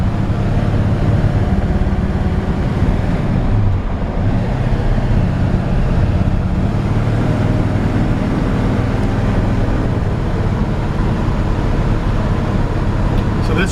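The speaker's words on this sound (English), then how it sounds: "So this truck just runs down the road super smooth." A 1950 Ford F-1 truck rolls down the road, a steady low engine and road roar mixed with wind buffeting, continuous and fairly loud throughout.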